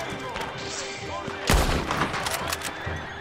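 Gunfire in the Red Dead Online game, a loud shot around the middle followed by several scattered cracks over a busy background with a voice talking.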